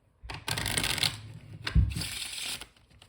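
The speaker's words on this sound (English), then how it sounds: "you can give it a riffle shuffle if you like" Two quick riffles of playing cards, a fluttering burst followed by a soft tap as the deck is squared, close and distinct.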